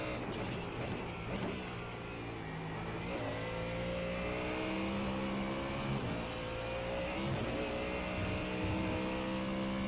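Mustang GT3 and McLaren race car engines at Monza in the iRacing sim racing game make a steady, layered drone of several engines at once. It stays at a moderate level, with rising and falling pitch as the cars accelerate.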